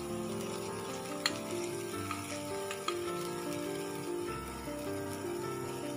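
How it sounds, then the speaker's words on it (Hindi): Almonds, cashews and pistachios dry-roast in a pan for a fig and date barfi, a steady close sizzle and rustle with a couple of sharp clicks as the nuts shift, no talking. "सबको मिक्स करके हम थोड़ी देर और भूनेंगे, 1 से 2 मिनट के लिए।"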